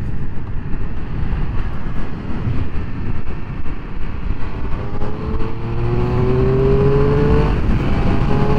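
A 2021 Triumph Speed Triple 1200 RS with quick shifter is ridden, its engine droning loudly and steadily, then rising in pitch through smooth gear changes as the bike accelerates, with wind rush throughout.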